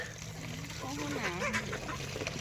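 Ducks kept together with chickens and rabbits on a farm in Laos give a short run of wavering, nasal quacking calls midway, faint against a steady background hum, with talk nearby.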